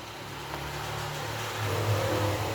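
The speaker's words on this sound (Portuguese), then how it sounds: "Muitas motos." Motorcycles pass by on a street, a steady mid-pitched engine rumble that swells and grows louder toward the end, with no voices.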